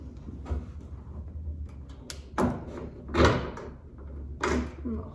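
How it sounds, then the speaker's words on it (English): Door handle trim on a Honda Civic being slid aside and popped out of the car door, a few sharp plastic clicks and knocks spaced apart, close and fairly loud over quiet room noise. "the other one you just slide to the right and pop it out"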